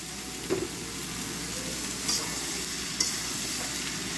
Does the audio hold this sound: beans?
yes